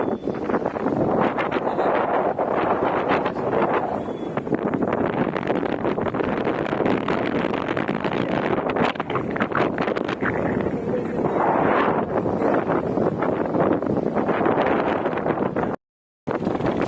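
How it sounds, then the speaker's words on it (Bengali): Strong, roaring Kalbaishakhi storm wind on a riverbank buffets the microphone almost without pause, loud and turbulent, rising and falling in gusts, with a brief dropout near the end. "এখানে অনেক বাতাস বয়ে যাচ্ছে"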